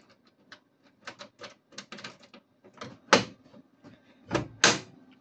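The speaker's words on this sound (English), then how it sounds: "You can open the door really, but I'm gonna open the belly door instead." The belly door of a Triple 7 fruit machine is unlatched and opened, giving a string of sharp metallic clicks and clunks with two louder knocks near the end, close up in a quiet room.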